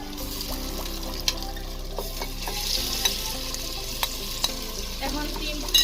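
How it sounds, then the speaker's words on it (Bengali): Marinated meat fries over high heat in a pan with garlic, a steady close sizzle broken by scraping stirs and occasional clinks of the utensil against the pan. "এখন 3 থেকে 4 মিনিট আমরা হাই আছে এই ম্যারিনেট করা মাংসগুলো নাড়তে থাকবো"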